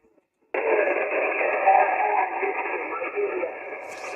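An amateur radio receiver carries a weak, narrow voice through heavy hissing static during an off-grid park activation; it starts abruptly after a brief silence and holds steady to the end.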